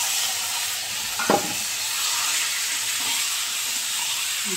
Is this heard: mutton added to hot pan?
yes